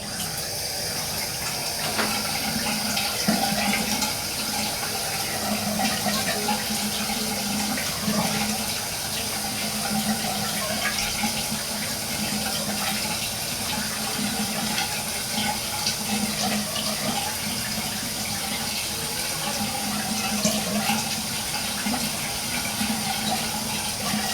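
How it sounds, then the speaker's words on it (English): Tap water runs steadily and close by while a wet-shaving razor and face are rinsed in a bathroom sink, a continuous hiss that holds for the whole stretch with no talk over it. "I'm going to rinse off and I'm going to go for my second."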